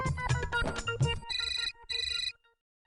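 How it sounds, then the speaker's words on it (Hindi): A telephone ringing indoors in a household, with a couple of short electronic ringtone bursts following some clattering and background music, then falling silent. "अरे फोन बज रहा है, फोन उठाना।"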